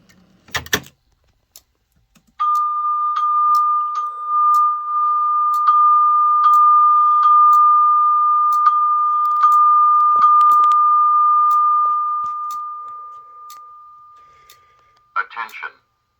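A Simplex voice evacuation fire alarm sounds a steady, loud chime tone held for about thirteen seconds, with a few short clicks and knocks before and after it.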